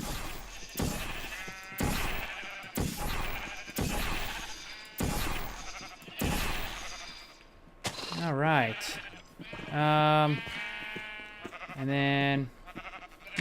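Sheep in the Minecraft video game bleat several times in short, rising, harmonic cries in the latter half, after a stretch of footsteps, clicks and a player briefly speaking.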